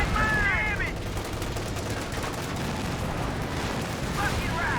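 Scattered small-arms fire in Company of Heroes 2 as a squad fires a volley at a quad half track, with crackling shots and distant battlefield rumble. Faint chirping game effects sit in the mix and no one talks.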